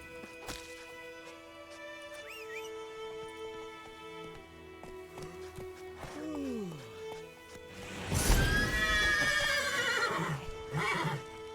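Roach, a horse in a fantasy video game, neighs with a loud, pitch-sweeping whinny, then breaks into thudding galloping hooves with a second whinny near the end, over game ambience and faint voices.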